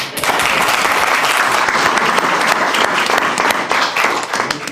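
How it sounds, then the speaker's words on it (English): A crowd at a city council meeting breaks into loud, sustained applause, dense clapping that holds steady for several seconds before easing slightly. "How about a big round of applause?"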